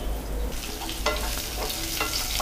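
A chicken gravy base of onions and spices sautés on low heat in a pan, with a continuous close sizzle and a few scraping stirs of a spoon.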